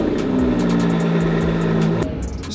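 Aston Martin DB11 engine, being rebuilt after crash damage, firing up after a battery swap: a loud steady engine note with a rising tone that drops off abruptly near the end.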